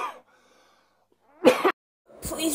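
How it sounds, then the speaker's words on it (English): A sick person coughs in two harsh, fairly close bursts separated by a pause, with a faint low hum before the first. "Need to cough up my sickness."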